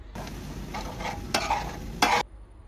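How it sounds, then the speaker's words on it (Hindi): Mashed tomatoes with turmeric, red chili, coriander and cumin are stirred in a hot tawa pan: close scraping strokes with a couple of sharper scrapes over a soft sizzle, then it stops. "अब इसको अच्छे से मिक्स करेंगे मसाले के साथ।"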